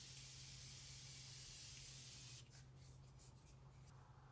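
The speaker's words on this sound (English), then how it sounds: "I am going to set everything with the Morphe Continuous Setting Spray." A steady, soft hiss of makeup setting spray, Morphe Continuous Setting Spray, misting for a couple of seconds, then a quieter faint rustle. No voices.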